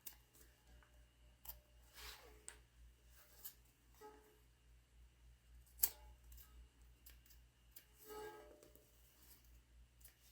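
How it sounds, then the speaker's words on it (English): Scissors trim excess zipper off fabric for a tote bag in a sewing workspace, giving a series of faint, sharp snips scattered over a low steady room hum. "now we can trim off any excess zipper accent that sticks out past the fabric"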